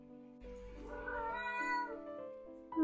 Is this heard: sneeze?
no